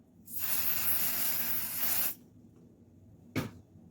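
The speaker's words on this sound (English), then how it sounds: "I'm going to use pasting spray. I'm just gonna spray it lightly." Pasting spray adhesive sprayed lightly onto fabric for an embroidery hoop project, heard as one close, steady hiss lasting about two seconds, then a brief second puff after a pause.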